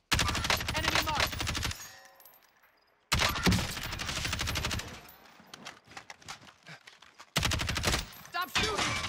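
Video game gunfire in an online multiplayer shooter match: loud dense bursts of automatic fire fill most of the stretch, with a short quiet gap and a sudden resumption, layered with game sound effects and occasional voices.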